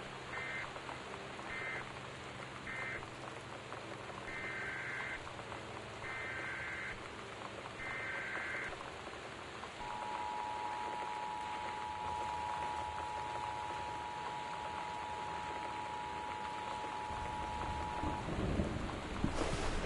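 Torrential rain with a thunderstorm in Gone Home, a steady hiss of rainfall and low rumble throughout, with short electronic warning beeps early on and a long sustained tone later.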